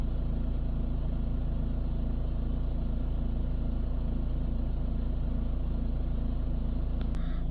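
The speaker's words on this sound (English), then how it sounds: "now we should be able to just go ahead and start the vehicle. Let that idle just for a minute," A VW Amarok with a 2.0 engine idles steadily after a service, a constant low rumble with an even hum that holds unchanged, near and moderately loud, with a brief click near the end.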